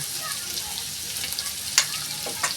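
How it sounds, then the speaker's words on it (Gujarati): Vegetables with turmeric, red chilli and sugar stirred in a pan for vegetable pulao, a steady close sizzle and frying hiss with a few sharp scrapes of the spoon. "હવે આપણે એને હલાવી દઈશું."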